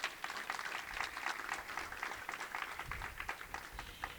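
Applause follows a ceremony's award announcement for a team-building module, with steady scattered clapping from a crowd sustained throughout, moderately loud and fairly close.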